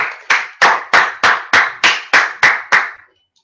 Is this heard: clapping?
yes